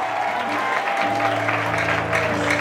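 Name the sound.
church congregation applauding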